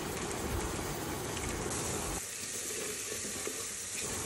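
Oil with onion, garlic and ginger paste sizzling and frying in a pressure cooker, a continuous close crackling hiss that thins out partway through while stirring continues.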